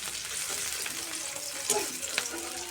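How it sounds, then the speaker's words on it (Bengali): Onions and green chillies frying in hot oil, a continuous close sizzle with a couple of light stirring clinks partway through. "এখন পেঁয়াজ কাঁচামরিচ কিছুক্ষণ ভেজে নেব"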